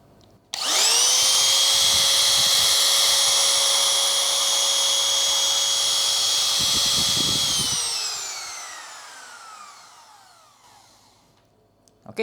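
A MOL cordless trimmer router powered by a Makita LXT battery starts with a sharp rise, holds a steady high-pitched whine for about seven seconds, then spins down gradually to silence, close and loud.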